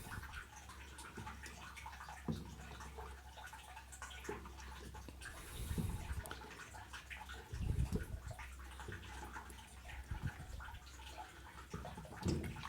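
Water trickles and splashes out of a whole house water filter housing as it is unscrewed, a faint continuous running with a few louder gushes and drips, no talk.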